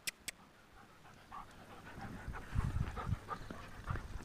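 Two dogs panting while playing together, quick close breathing that builds and grows louder toward the end, with a couple of sharp clicks near the start and no talk.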